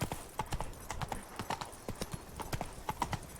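Hooves of the horse Roach clip-clopping in The Witcher 3, a quick, steady trotting patter of hoof knocks at moderate loudness over a soft game ambience.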